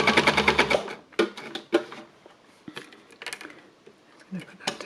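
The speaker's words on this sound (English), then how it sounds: "And this is quite slow embellishing." An embellishing machine needle-felts fabric at a slow pace, giving off a rapid, rattling mechanical chatter in short bursts with pauses between them. The sound is close and moderately loud, and no one speaks.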